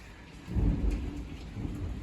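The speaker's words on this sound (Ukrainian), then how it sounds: "град, блискавка, штор." A thunderstorm with hail and rain in a garden, with a low roll of thunder swelling and fading under steady rain hitting surfaces, heard from fairly close.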